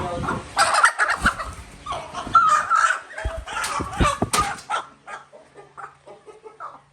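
A hen squawks loudly in frantic, agitated bursts on a goat farm, then settles into quieter, scattered clucks toward the end.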